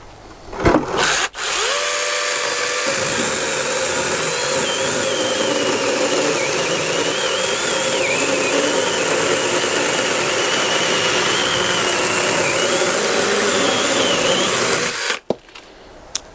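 An ORBLON mini chainsaw on a flat DeWalt battery bursts to life with a few quick revs, then cuts through wood in a loud, steady, high-pitched buzzing whine for about fourteen seconds before cutting off abruptly.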